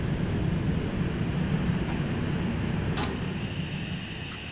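Train in the SimRail simulator accelerating at full power: a broad, steady roaring rumble with a thin high whine rising in near the end, loud and continuous with no talk.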